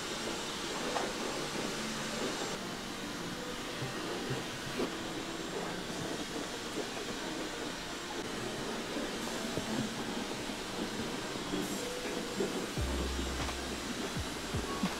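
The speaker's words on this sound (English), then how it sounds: "now steam's going on again" A facial steamer runs during a head spa treatment in Los Angeles, giving a steady hiss that lasts throughout, with a low thump near the end.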